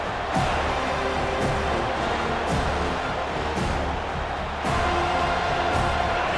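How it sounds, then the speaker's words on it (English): Stadium crowd noise during a third-down play in College Football 25, a broad steady roar of cheering at moderate level, swelling in waves without any speech. "3rd down and the crowd really getting into it"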